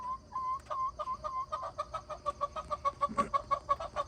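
Backyard chickens in a run cluck in a quick, steady series of short, bright notes, close by, with a busier flurry near the end and no talk.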